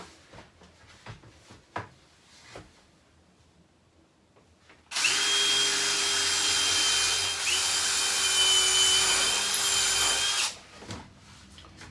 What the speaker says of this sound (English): we're going to pre-drill these holes